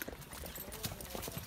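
Horse hooves clip-clop quietly on a farm ride at Sidhu Farms in Panj Kosi, a brief run of irregular, fairly close beats.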